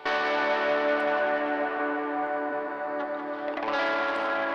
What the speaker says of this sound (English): Basic electric guitar channel.